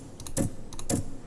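Two quick clusters of small metallic clicks and thumps, each ending in a brighter clank, built from a lightsaber impact thump layered with sped-up metal tin clanking.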